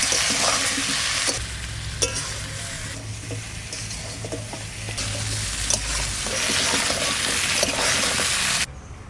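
Onion-style sauté for a Bengali hilsa curry with potatoes, stirred in a pan after salt and a pinch of turmeric go in, a steady close sizzle with spatula scrapes and clinks, no talking.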